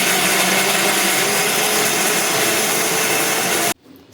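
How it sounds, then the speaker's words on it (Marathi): An electric mixer grinder running loud and close as it grinds masala paste, a steady dense whirring roar that cuts off abruptly near the end. "सो गाईज मी ते मिक्सर लावून घेते मसाला"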